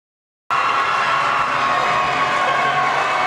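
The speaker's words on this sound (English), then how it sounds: "the Sulphur Springs crowd is very loud right now" A loud crowd at a Sulphur Springs high school football playoff game roars and cheers, bursting in abruptly after a moment of silence and holding a dense, sustained wall of shouting to the end.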